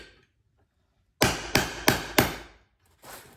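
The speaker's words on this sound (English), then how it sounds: "So I just use the chisel to get it started." Four sharp, evenly spaced hammer blows drive a chisel into a wall around an old Nutone intercom, loud and close after a short silence, with a softer fifth knock at the end.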